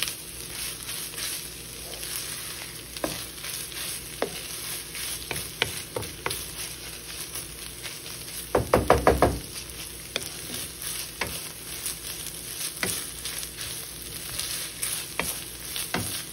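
Pastil mixture of seasoned meat frying in a pan, steady sizzling with frequent spatula scrapes and one burst of quick rapid stirring midway.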